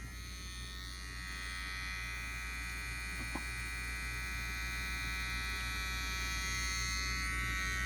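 An electric hair trimmer with a gold T-blade runs continuously, giving a steady, close, high-pitched motor buzz that holds an even level throughout, with no speech.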